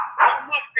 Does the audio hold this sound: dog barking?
yes